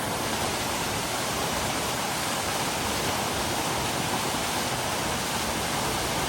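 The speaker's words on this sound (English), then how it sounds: "That's a nice little waterfall there." A constant hissing roar of a waterfall, close and loud, with no pauses or other sounds.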